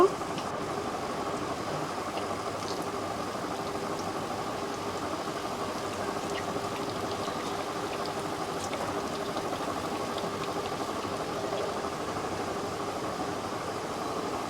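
Onion fritters (peyaji) deep frying in hot oil give off a steady, dense sizzle that holds an even level throughout, with no one talking.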